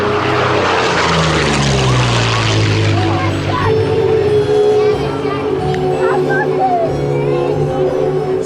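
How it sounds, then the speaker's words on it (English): A Curtiss P-40N Warhawk propeller fighter makes a low, fast pass at a warbirds airshow, a loud, steady engine roar whose pitch sweeps downward as it goes by and fades. "Here comes the P-40 low and fast."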